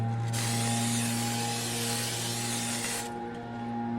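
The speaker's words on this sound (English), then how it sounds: "this is the canola oil spray we are going to be using" Canola oil spray hisses steadily from a can into a pan for about three seconds, a close, loud burst set against a constant kitchen appliance hum.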